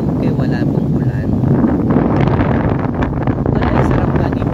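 Strong seaside wind buffets the microphone in a steady, loud roar, with a voice talking over it now and then.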